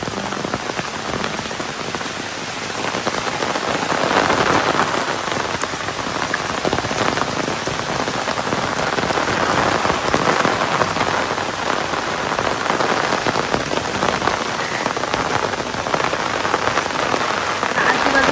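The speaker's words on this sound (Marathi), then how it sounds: "आणि आता तुम्ही बघू शकताच एकदम असं पाऊस इला मस्तपैकी." Heavy, continuous monsoon rain pours down over rice paddy fields in the Konkan, a dense even roar of drops on surfaces that swells slightly at times over nearly twenty seconds.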